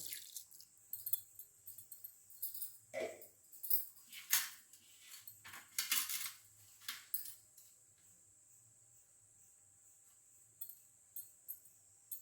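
Fenugreek seeds dropped into hot oil in a heavy iron pan give quiet crackling and sizzling pops in scattered bursts, a few louder spits early on, then fainter sporadic crackles.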